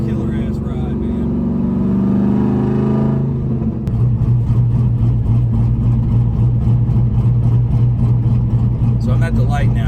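LS-swapped car with the QTP electric cutout open, a loud rumbling exhaust that rises, settles into a deep throbbing idle, then revs again near the end, with someone talking over it.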